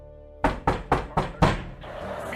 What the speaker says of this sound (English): That's when she heard someone banging at the door.